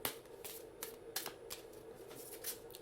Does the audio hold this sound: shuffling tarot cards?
yes